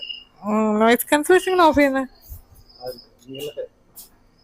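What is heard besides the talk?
crickets chirping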